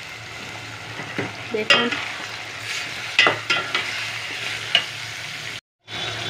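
Minced meat frying in a pan with onion and tomato for a home-style kima bhuna, with a low steady sizzle and a few sharp scraping stirs at intervals, then a brief gap in the sound.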